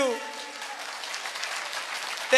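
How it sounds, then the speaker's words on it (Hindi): A crowd claps steadily in a dense burst of applause, with a voice briefly audible at the start and end. "मिस्टर सुखदेव सिंह रावत के लिए जोरदार ताली।"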